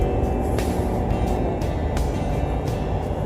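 A Ford F450 truck on new Continental HD3 tires cruising on an expressway, heard from inside the cab as a steady, even road and tire hum, loud and unbroken throughout.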